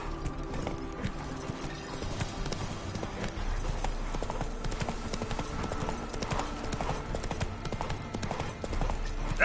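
Roach, the horse in The Witcher 3, gallops with a continuous loud drumming of hooves close by, with no one speaking.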